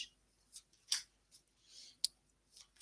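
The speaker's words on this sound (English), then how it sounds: "I'm going to lay some cards out on one side for education and some cards on the other side for corporate" Tarot cards being laid out on a surface for a reading, producing soft, close snaps and light slaps at an irregular pace, several brief crisp contacts spread over a quiet background.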